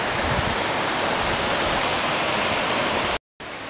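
A waterfall behind a climbing slab roars as a steady, loud, dense rush of water that fills the whole moment, broken only by a brief cut near the end.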